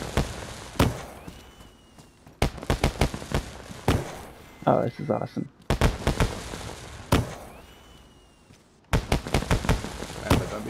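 Fireworks burst in the survival game DayZ, a series of sharp bangs and crackling pops in uneven clusters, some with whistling launches, while a player talks excitedly between them.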